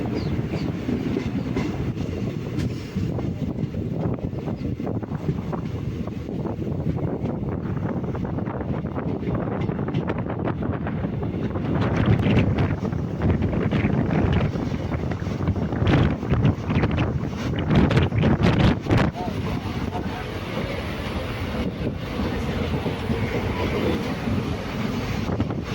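A passenger train on the Sengottai to Tirunelveli line through the Western Ghats rumbles along the rails, a loud continuous roar with clattering wheel beats and wind buffeting the microphone.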